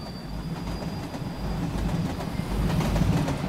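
A train rumbles past in the Fallen Aces video game, a steady low clatter building slightly louder over a few seconds with no voices.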